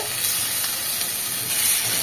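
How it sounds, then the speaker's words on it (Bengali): A steady, close hiss of onion paste, ground with green chillies, frying in a hot pan, with faint stirring scrapes. "পেঁয়াজ বাটাটাও 1 মিনিট ভেজে নেব"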